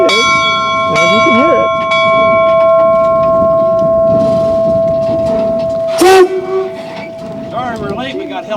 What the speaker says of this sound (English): We got held up by a silk train.